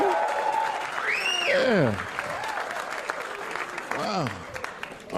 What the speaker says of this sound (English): clap for Tim Meadows, everybody